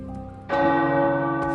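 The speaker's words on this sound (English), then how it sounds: "The tower bells are ringing." Tower bells in the video game Midnight Suns strike with a sudden loud, ringing clang that sustains as a rich, slowly fading tone.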